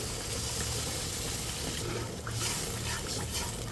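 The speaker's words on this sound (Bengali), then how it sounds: "এখন আমি দিয়ে দিচ্ছি পরিমাণ মতো পানি" Water pours into spiced masala for a pabda fish curry, a soft continuous liquid rush with faint bubbling, quiet and steady over a low background hum.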